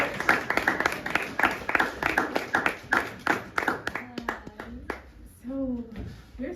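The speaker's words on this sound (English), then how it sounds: "Audience members, please greet our next artist with a round of applause" Sparse clapping from a small audience greets presenters at a fellowship showcase, with a steady pattern of individual claps that thins out toward the end as a voice begins to speak.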